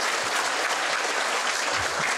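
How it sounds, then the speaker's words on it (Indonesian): Audience applause fills a hall during a question-and-answer session at a Buddhist Dhamma talk. It is a steady, dense clapping that stays even and fairly loud from start to end. "baik tepuk tangan dulu Bande."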